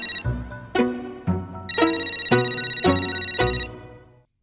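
A telephone rings late at night with a melodic ringtone, repeating its bright chiming phrase several times in quick succession, loud and alone before cutting off.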